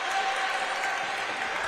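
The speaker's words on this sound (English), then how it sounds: "Shepherd crowd and the bench trying to get into it." The home crowd and team bench at a college men's basketball game cheer and applaud in a steady, dense roar from the stands.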